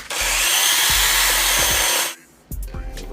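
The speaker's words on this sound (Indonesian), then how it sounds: "Langsung kita bor ya. Ini kita bor." Power drill boring a hole, a loud, steady high-pitched whir for about two seconds with a few knocks beneath, then cutting off, followed by brief clatters and handling noise.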